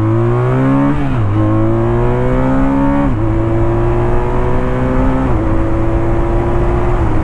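A BMW R1200RT motorcycle of 2014–2018 accelerating hard in dynamic mode, the engine note rising steadily through several gears with clear shift dips, loud and close with steady wind noise and no talking.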